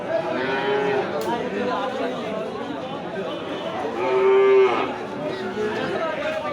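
Cattle at the Ranir Bandar cattle market moo in long, loud, drawn-out calls that overlap and swell near the end, over a constant murmur of market crowd noise.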